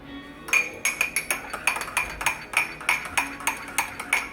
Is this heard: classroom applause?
no